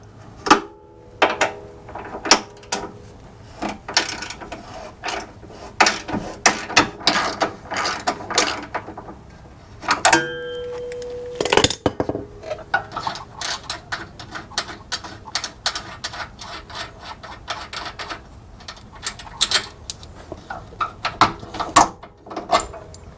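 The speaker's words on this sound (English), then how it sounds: "next we're going to run a ratchet strap from the driver's side of our axle to the passenger frame" A ratchet strap clicks repeatedly as it is cranked tight between the axle and frame of a Jeep JK during rear track bar brace work, with close, irregular bursts of sharp ratcheting and metallic handling sounds.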